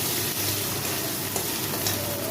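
Ginger paste hitting a pan of already-fried potatoes, giving a steady, close hiss of frying with soft stirring scrapes throughout and no voices.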